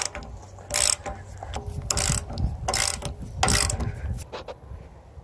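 A ratchet wrench clicks in quick bursts while set screws are tightened on an Andersen Ultimate fifth wheel adapter fitted to a kingpin, with close metallic ratcheting broken by short pauses and faint handling noise.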